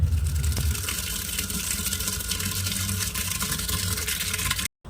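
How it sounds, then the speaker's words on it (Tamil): Onions and garlic being washed under running water, a steady rushing stream from a tap splashing continuously close by, cutting off abruptly at the end. "இப்போ வந்து வெங்காயத்தையும் பூண்டையும் வந்து நான் வந்து வாஷ் பண்ணி எடுத்துக்கிட்டேன்"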